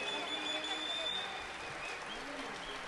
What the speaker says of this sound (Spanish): Un aplauso a don José Nieto de allá de Villa Juárez